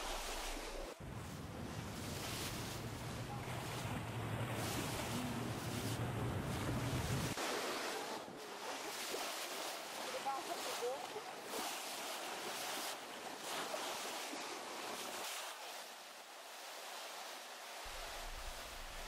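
A research ship pushing through open sea in a cetacean sanctuary gives a steady rushing wash of bow wave and surf, loud and close, with wind buffeting the microphone and a low hull rumble that drops away partway through.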